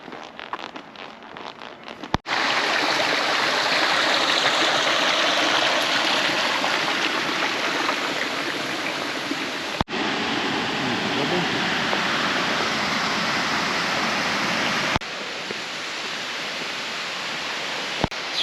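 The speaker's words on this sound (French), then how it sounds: "Super belle cascade." Waterfall on the GR400 hiking trail in Cantal, a steady, loud broadband rush of falling water that fills the clip, with a few brief breaks where the sound cuts, and no talking over it.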